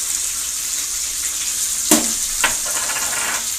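Garlic-ginger paste and cumin powder hit a hot pan of oil while cooking murgh musallam, giving a steady close sizzle with two brief sharper bursts as the additions land, no talking.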